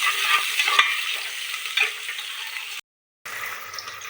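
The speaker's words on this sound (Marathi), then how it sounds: "अशा प्रकारे मस्त आपल्याला ब्राऊन कांदा वगैरे मस्त परतून घ्यायचं।" Onion fries and sizzles in a pan for dal khichdi while a spoon stirs it, giving a loud, steady hiss with scraping strokes and one brief dropout near the end.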